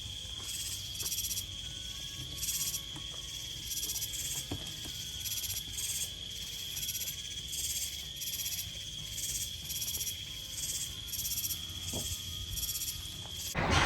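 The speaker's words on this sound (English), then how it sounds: "Listen, you can hear the cicadas. They're so loud." Loud cicadas in San Antonio, Texas, sound in regular pulsing bursts of high buzzing, rising and falling in a steady rhythm over a quiet background, with no talking.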